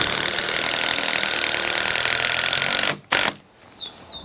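Power tool driving a fixing through a timber brace into a wooden wall stud, a loud steady whine for about three seconds, then a short burst and quiet.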